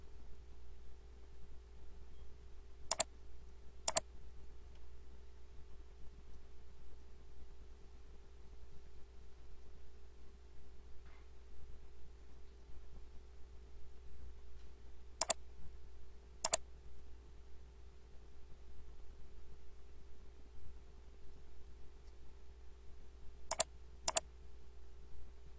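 Sparse computer mouse clicks in a quiet room while working in Revit, isolated sharp taps arriving in close pairs several seconds apart over a low steady background hum.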